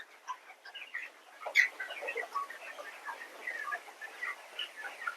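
Soft, scattered clucks and chirpy calls from chickens at a distance on a raised-floor poultry farm, a busy low-level chatter of poultry without talk.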